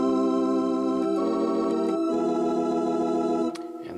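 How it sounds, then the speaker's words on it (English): Technics U90 organ holding chords with the tremolo effect on fast rotor speed, a quick pulsing wobble in the sustained tone, changing chord partway through and dropping to a softer held note near the end. "If I flick on the speed switch to tremolo"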